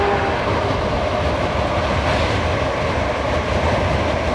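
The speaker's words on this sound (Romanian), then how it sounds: "Suntem aici pe trenul de Interregio Night 1822 Arad București" A CFR Interregio Night 1822 overnight train from Arad to Bucharest runs steadily, heard from inside as a constant broadband rumble and rushing roar with no distinct breaks and no talking.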